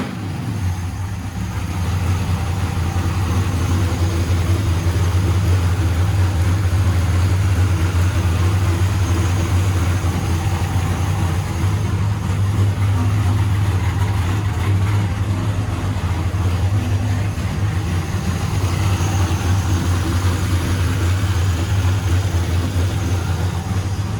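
LT1 V8 of a 1996 Impala SS race car idling on its first start, a loud steady low rumble held close and even throughout, with no one talking over it.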